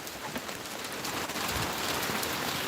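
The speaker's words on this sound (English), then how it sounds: "It's raining like a son of a gun out here." Heavy rain pouring outdoors during a storm, a dense, steady hiss of drops striking surfaces, close and loud throughout with no talk.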